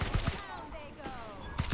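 Gunfire in the video game The Outer Worlds, several quick low thumps of shots in a short burst, with game voices and effects layered over them.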